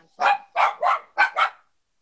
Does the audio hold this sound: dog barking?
yes